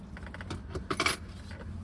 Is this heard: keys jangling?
yes